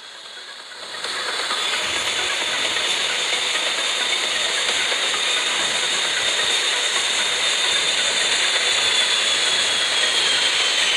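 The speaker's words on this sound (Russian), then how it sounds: "Смотрите, сейчас вам вот так вот взлет покажу." A jet airplane taking off in the airport game Airport Madness 3D 2 sends a loud, steady roaring hiss that swells in after a quiet second and holds strong and even to the end.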